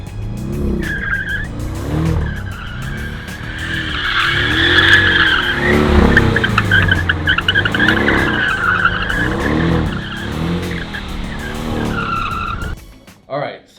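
A Porsche 718 GTS with a manual gearbox driven hard on a track at the Porsche Driving Experience in Los Angeles, tires squealing and skidding continuously over a droning engine, loud and close with slight wind buffeting.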